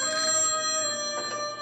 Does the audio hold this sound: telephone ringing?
yes